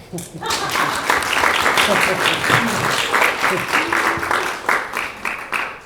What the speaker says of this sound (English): we'll take a round of applause there, guys